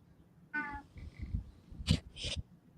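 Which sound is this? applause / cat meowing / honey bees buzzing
cat meowing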